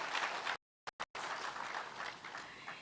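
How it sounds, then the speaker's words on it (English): An audience at a judicial event in Kenya applauds the Chief Justice, a faint, distant wash of clapping that cuts out abruptly for about half a second before resuming evenly. "My lady, again, you deserve a round of applause."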